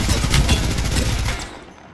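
Rapid gunfire in the video game Apex Legends: dense, overlapping bursts of shots, loud and close, running steadily for about a second and a half before tailing off.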